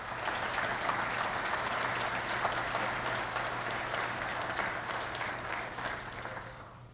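An audience gives warm, sustained applause for the guests at a distinguished lecture series event, a dense even clapping that holds steady and fades slightly at the end, over a faint low hum.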